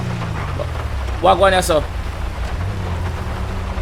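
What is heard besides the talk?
rain and thunder in video game GTA 5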